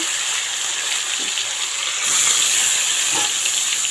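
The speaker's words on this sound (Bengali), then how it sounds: "এখন বেগুন ভাজা উঠিয়ে নিয়ে ওই তেলেই আমি উচ্ছে ছেড়ে দিচ্ছি" Salted bitter gourd slices drop into hot oil in a wok just used for frying aubergine, and a loud, steady sizzling hiss swells and grows brighter partway through, with no talking.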